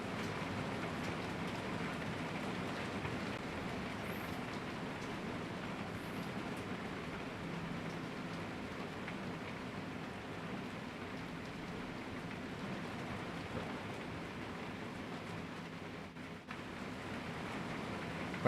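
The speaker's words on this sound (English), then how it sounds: "that's a heck of a rainstorm happening right now." Heavy rainstorm outside, a steady dense wash of rain drumming continuously and fairly faint, as if heard from indoors, with no voices over it.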